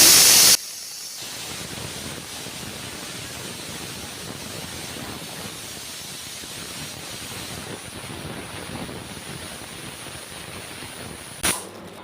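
Meat cooks in a pressure cooker, opening with a short loud burst, then a steady soft steam hiss that runs continuously, with a small spike near the end.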